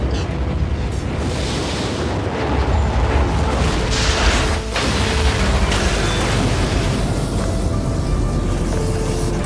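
A huge, sustained blast roars from a shell detonated by an airship in a war film, a dense booming wall of sound lasting several seconds with rumbling low end and a brief dip midway.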